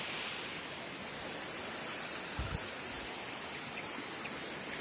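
A creek flows with a steady, soft rushing wash of water heard from nearby, continuous and even, with faint insect chirps above it and a low thump partway through.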